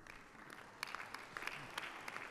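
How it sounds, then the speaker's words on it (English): Audience applause in a conference hall at a plenary session on global trade, a quiet patter of clapping that swells briefly in the middle and carries on steadily throughout. "Didn't expect to get a round of applause on that one, Jim."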